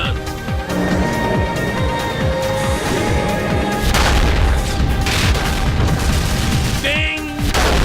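Spaceship guns in a space combat game fire in rapid repeated blasts and booms, dense and continuous, with a voice talking over the action.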